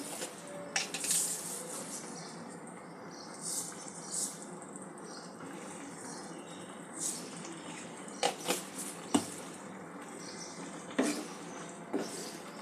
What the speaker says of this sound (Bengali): নাড়াচাড়া করে মিশিয়ে নেব।